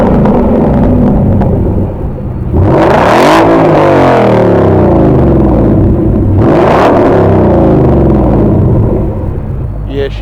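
A 2015 Ford Mustang GT fitted with a new MBRP exhaust revs hard twice, each loud, close blip swelling and falling back to a deep rumbling idle, with people talking nearby.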